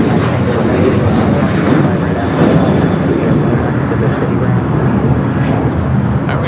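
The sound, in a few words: United Boeing 787 Dreamliner airliner at LAX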